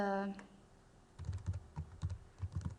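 Quick clattering keystrokes on a computer keyboard follow a brief voice, tapping in uneven bursts close to the mic at a moderate level.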